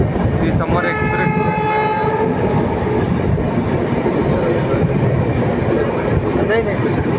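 A mail express train rushes past close by on the Thane–Jalgaon line, a loud continuous roar and rattle of wagons throughout, with a horn blast sounding near the start.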